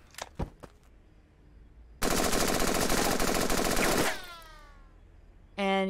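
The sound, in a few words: rifle gunfire in the video game Henry Stickmin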